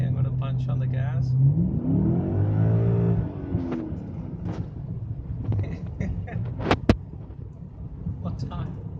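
A BMW E39 M5 with a slipping clutch is pushed to full throttle. Its engine note climbs quickly in a rising rev, then falls back to a rumbling drone. There is buffeting wind noise and a few sharp knocks, and a voice may be faintly heard.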